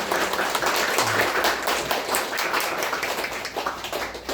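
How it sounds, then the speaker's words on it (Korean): A church congregation at a Sunday service claps together in welcome for visiting pastors, producing a dense, steady patter of many hands that continues without a break. "우리 감사하는 마음으로 환영의 박수를 드리겠습니다"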